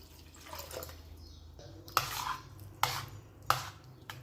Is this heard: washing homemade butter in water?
yes